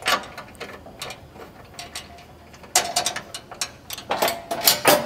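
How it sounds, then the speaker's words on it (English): A ratchet spanner tightening bolts on a Toyota Land Cruiser LC200 underbody guard, giving close, quick bursts of clicking pawl ratchets in repeated short strokes, with a louder flurry in the second half. "you'll need a little open spanner or a ratchet spanner"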